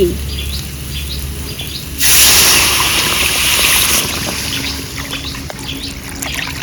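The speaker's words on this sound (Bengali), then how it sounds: "ভালো করে কষে নিয়েছি এবার পরিমাণ মতো জল দিয়ে দেবো" Water poured into a pan of cooked-down spices for a thin red egg curry, a loud rushing pour lasting about two seconds over a hissing simmer and faint background chirps.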